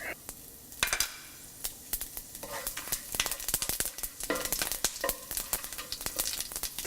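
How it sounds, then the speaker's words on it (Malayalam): Whole spices splutter and crackle in hot coconut oil for a mutton curry, a dense run of sharp close pops and ticks over a faint sizzle, with no talking. "വെളിച്ചെണ്ണ ഒഴിച്ച് ചൂടായി കഴിയുമ്പോൾ ഹോൾ സ്പൈസസ് ഇട്ട് പൊട്ടിക്കുക"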